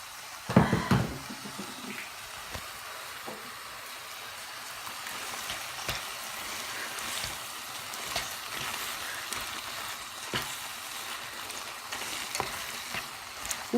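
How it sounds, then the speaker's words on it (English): Water goes into a hot frying pan while a vegetarian Quorn lasagne is being cooked, giving a steady soft sizzle and hiss with a brief louder splash near the start and scattered small clicks. "Just going to put a little bit of water in."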